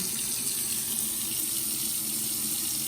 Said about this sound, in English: So we've got a nice, decent stream of water.